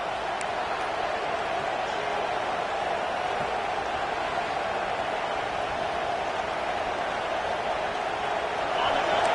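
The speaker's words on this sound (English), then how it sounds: "Decibels rising as the crowd gets behind this defense on third down." Football stadium crowd roaring on third down to rattle the offense, a dense, constant wall of noise with a commentator talking over it throughout.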